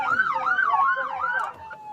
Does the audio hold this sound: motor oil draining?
no